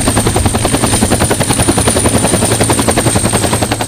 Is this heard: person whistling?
no